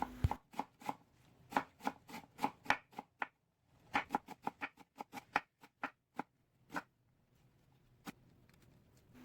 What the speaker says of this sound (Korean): 대파는 뿌리 쪽 하얀 부분만 사용하겠습니다. 쫑쫑 썰어주시면 됩니다.